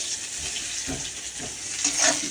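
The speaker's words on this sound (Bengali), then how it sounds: "পেঁয়াজটা একটু ভেজে নিই" Onions sizzle softly in a pan for a Bengali home-cooked meal, a steady, fairly quiet frying hiss with a couple of light stirring knocks and a brief brighter splash near the end.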